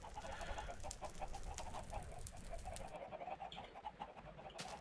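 Adult chickens on a video game chicken farm cluck and chatter in quick repeated bursts, faint and close, with no talk.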